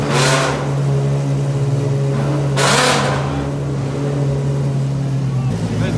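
Ferrari race cars such as the FXX and 599XX fire up in a garage, with a steady engine drone broken by two sharp, loud revving bursts, one at the start and one a few seconds in.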